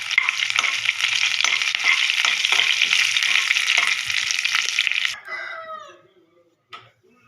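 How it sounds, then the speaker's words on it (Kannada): Cumin, curry leaves and dried chillies crackle and sizzle loudly in hot tempering oil for a tomato sambar, a steady frying hiss that cuts off abruptly into quiet stirring. "ಜೀರಿಗೆ, ಕರಿಬೇವು, ಒಣಮೆಣಸಿನ್ಕಾಯಿ. ಇವಾಗ ಇದನ್ನ ಒಂದು ಮಿಕ್ಸ್ ಕೊಡೋಣ."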